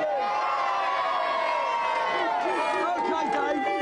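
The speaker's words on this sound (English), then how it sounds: "Go on, give him a cheer." Studio audience on a 1993 Christmas special of a video game TV show cheering and whooping, a dense, steady roar of crowd noise filling the whole stretch with no speech over it.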